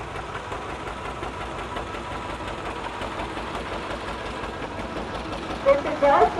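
A 1938 John Deere B tractor engine runs at an antique machinery parade with a low, steady chugging idle, moderately near, while a voice talks over it and a few louder bumps come near the end.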